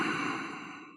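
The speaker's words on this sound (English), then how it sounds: "it's this Darth Vader sound that you can make by imagining you're fogging a mirror" One long, breathy Ujjayi exhale, a hoarse, throaty Darth Vader-like hiss made by constricting the throat, close and steady, fading gently over about a second.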